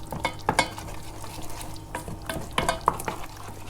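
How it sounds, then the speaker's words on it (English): A pan of flour being mixed into moussaka sauce on the stove, with soft scraping stirs and light sizzling arriving in irregular bursts, fairly close and moderately quiet, with no talking. "Just keep mixing that as you go."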